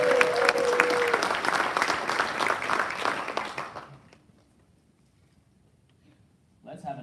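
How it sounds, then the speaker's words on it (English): Audience applause at a fighter wing quarterly awards ceremony, loud sustained clapping from a large crowd that fades out after about four seconds, leaving near silence before a voice briefly begins speaking at the end. "Let's have another round of applause for all of our Key Spouse nominees."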